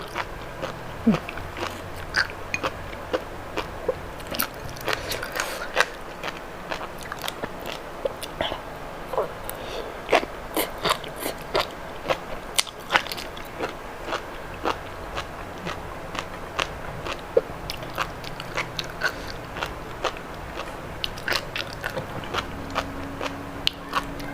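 Sea grapes seaweed is bitten and chewed close to the mic, giving many small, crisp pops and crunches at an uneven pace against a quiet background.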